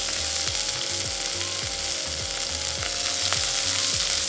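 Fennel seeds and green chillies frying in hot oil for a curry, a loud, close, continuous crackling sizzle with a low rhythmic thumping underneath.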